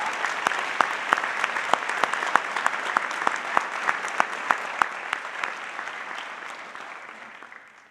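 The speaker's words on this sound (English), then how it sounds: "Well, a huge round of applause." An audience at a high school community scholarship ceremony breaks into sustained applause, a dense wash of many hands clapping with a few sharp nearby claps standing out, slowly tapering off near the end.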